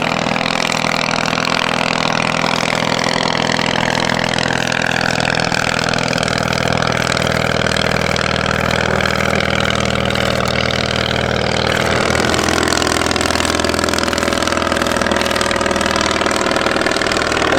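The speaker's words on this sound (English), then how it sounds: "Flat twin motorcycle engine." A loud, steady 3-horsepower flat twin motorcycle engine on a 99-year-old aeroplane drones continuously with a throbbing mid-pitched tone and a slight shift in pitch partway through; no voices.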